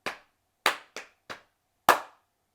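Five sharp hand claps ring out alone in an uneven rhythm as part of a clapping exercise, close and crisp with short gaps and a longer pause before the last clap.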